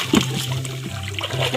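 Wood thrown into river water, landing with a short splash near the start, followed by ongoing trickling and sloshing of the river close by.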